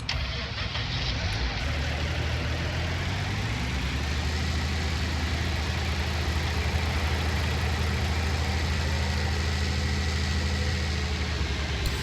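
A tractor engine idles in the Farming Simulator 19 video game, a steady low rumble that runs continuously and loudly throughout.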